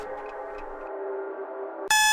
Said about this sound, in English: The alarm frightens you as you shake yourself awake.